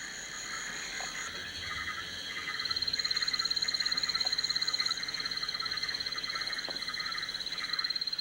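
Poison arrow frogs call in a steady, high, buzzing trill that grows louder partway through and carries on without pause, with soft rainforest ambience behind it.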